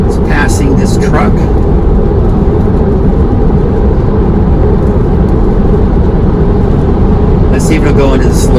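A self-driving car on a multi-lane road changing lanes and passing a truck, heard from inside as a loud, steady low road and engine rumble throughout, with brief higher whooshes near the start and end.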